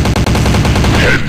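Rapid gunfire bursts in the mobile shooter Critical Strike Force, loud and close, a dense stutter of shots over a little more than a second.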